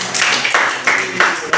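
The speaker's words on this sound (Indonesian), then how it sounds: "Kasih tepuk tangan dulu." Brief bursts of clapping from a group at a teachers' academic coaching and supervision session, several short uneven rounds of hands striking together, fairly close and moderately loud with no talk over them.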